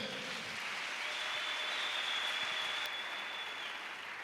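A church congregation claps together, a steady, dense wash of applause that holds evenly throughout.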